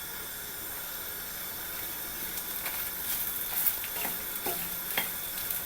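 Coconut roasting and being stirred in a pan gives a steady, soft sizzle and hiss, with scattered light scraping ticks from the stirring growing slightly busier toward the end; no voices.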